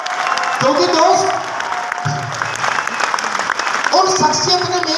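Audience applause fills a hall at a motivational event in Jaipur, a steady wash of clapping running underneath a man's loud, amplified speech.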